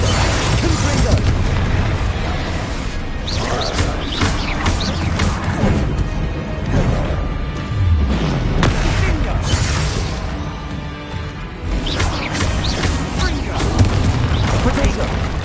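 Confringo spell explosions in the Hogwarts Legacy video game boom and crash repeatedly amid a chaotic fight with a troll, with heavy impacts and bursts layered under shouted voices.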